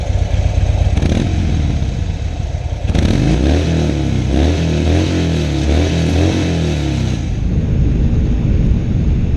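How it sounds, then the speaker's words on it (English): A 2016 Harley-Davidson Low Rider with a stock 2-into-1 exhaust idles with a loose, lumpy rumble, then is revved hard several times, rising to a loud, deep roar and dropping back, heard up close and alone. "And you have this nice 2-in-1 exhaust that I do believe is stock. All right, let's see what it sounds like."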